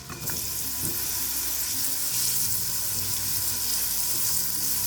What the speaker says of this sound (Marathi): तूप गरम झालेलं आहे केळ्याचे काप घ्यायचं आहे